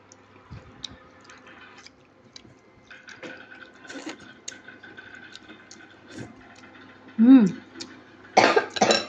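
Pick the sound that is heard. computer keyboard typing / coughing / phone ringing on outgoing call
coughing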